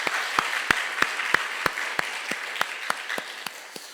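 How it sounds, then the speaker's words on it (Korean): Church congregation clapping in thanks for parents during a Sunday service, a soft wash of applause with distinct, evenly spaced single claps standing out near the front. "우리 부모님께 감사 박수 보내겠습니다"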